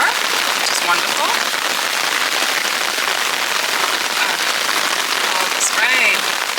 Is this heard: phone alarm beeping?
no